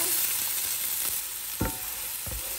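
Chopped onions and garlic sautéing in a hot pan for kare-kare, a steady soft sizzle with a few sharp scraping stirs, no talking.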